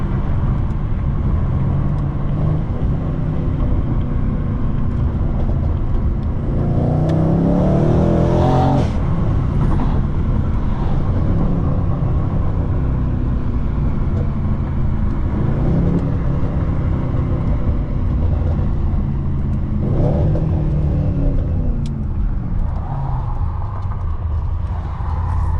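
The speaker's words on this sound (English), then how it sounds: "The best part about this car is the exhaust button right here." Mercedes C63 AMG exhaust rumbles steadily from inside the cabin, with a few swelling revs and gear changes over continuous engine drone and road noise.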